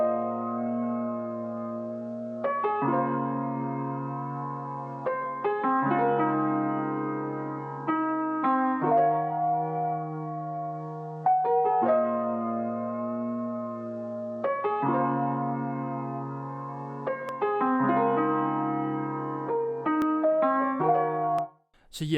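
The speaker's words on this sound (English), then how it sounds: "So I used this studio grand piano," A studio grand piano in FL Studio plays thick, sustained minor ninth chords alone, with a new chord struck roughly every couple of seconds in a slow, steady progression.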